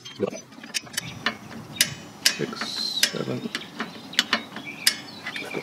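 Rear drum brake shoe adjuster on a Toyota Yaris being turned, giving a series of small sharp clicks at an uneven pace with quiet pauses between them, fairly close and faint.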